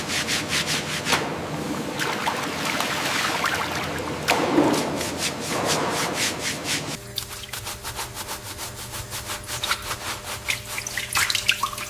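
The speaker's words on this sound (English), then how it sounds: "The shells are crushed slowly, not broken." Ostrich eggshells being slowly crushed for fertilizer at a factory, producing continuous gritty grinding and scraping with repeated rhythmic crunching strokes, fairly loud and close, no speech.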